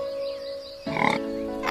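A pig gives a brief, rough grunt near the middle, moderately loud against a quiet background with a faint steady tone.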